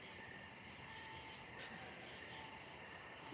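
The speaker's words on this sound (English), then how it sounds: "everywhere I go, there's a freaking cricket" Crickets chirp at night in a steady, high, continuous trill that stays faint and constant throughout, heard alone with no voices.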